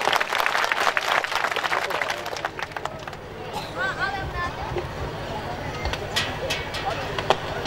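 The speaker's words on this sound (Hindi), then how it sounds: "आप सबकी जोरदार तालियों के बीच में" An audience applauds at a tribal community event in Varli, with scattered claps and crowd babble. The applause is fairly loud at first, then thins into murmuring and a few claps.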